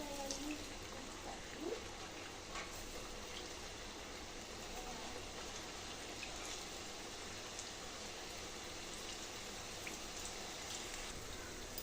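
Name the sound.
rice flour chips frying in hot oil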